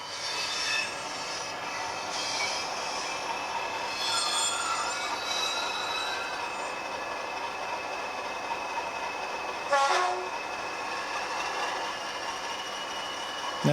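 A model train rolls along a siding track with dirty rails, giving a steady rolling hum with faint wheel squeal and a brief louder screech near the end, with no talk.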